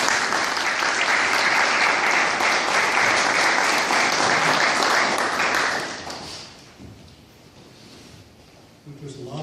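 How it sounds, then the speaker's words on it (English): Wedding guests burst into loud, sustained applause that fills the room for about six seconds, then fades to scattered claps and quiet murmuring. "And applause is absolutely required."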